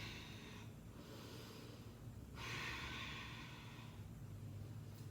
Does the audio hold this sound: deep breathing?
yes